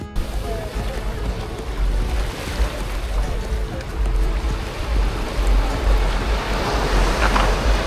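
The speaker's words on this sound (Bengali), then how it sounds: "ঢেউয়ের আওয়াজটা" Ocean waves wash steadily onto Karon Beach in Phuket, a continuous broadband surf roar with gusty wind noise on the microphone, swelling slightly toward the end with no voices.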